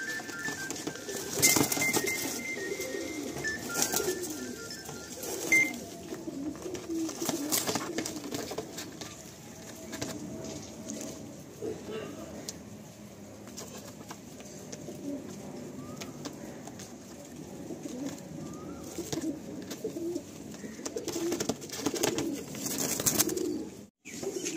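Madrasi pigeons, a pair just released from a loft, give soft low cooing calls with faint wing patter over steady outdoor background noise, continuing throughout.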